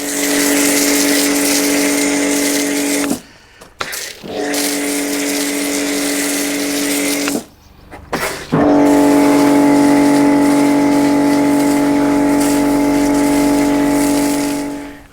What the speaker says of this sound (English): Now I'm finished with the snow foam application,